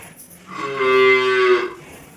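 A hornless village cow lets out one long, loud moo lasting about a second during a Sankranti festival in rural Karnataka, rising and fading cleanly against a quiet background.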